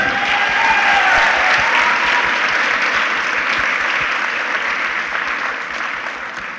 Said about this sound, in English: how about a round of applause for Bella Reichard on the trumpet?